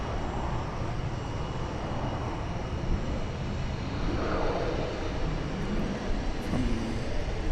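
An American Airlines jet in US Airways Heritage livery at DFW Airport gives a steady, broad engine roar that holds at an even level throughout, with no talk over it.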